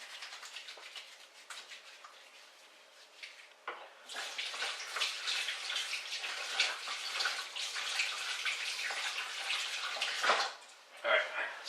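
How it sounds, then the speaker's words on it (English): Hands are washed under a running kitchen tap after touching raw fish, a steady close splash and gush of water that swells after a few seconds and keeps pouring with small irregular bursts. "I'm going to wash my hands though, because I've just touched raw food and stuff."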